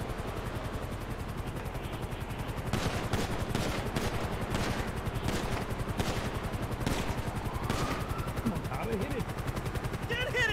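Rapid automatic gunfire in a video game aimed at a helicopter's tail, crackling bursts over a steady helicopter rotor drone, loud and continuous with heavier volleys in the middle.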